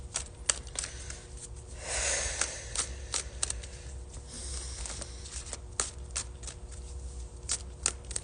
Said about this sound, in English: They hate when I shuffle this much.